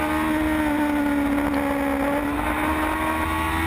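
Formula Gulf race cars on track in 2016, engines holding a loud, steady high-pitched drone as they run close together, nearby and continuous with no talk.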